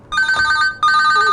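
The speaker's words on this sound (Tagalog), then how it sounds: "Oh, nagring ti cellphone ko." A cellphone rings in an Ilocano drama scene: two loud, close electronic ring bursts separated by a brief gap, with no voices over them.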